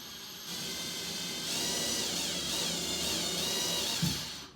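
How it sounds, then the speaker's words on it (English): A power drill slowly bores pilot holes through a wall to mount a hanging storage basket, a steady close whirring drone that rises slightly midway and stops with a small thump near the end. "now we're just going to drill them very slowly through here just to make sure that there's no stud"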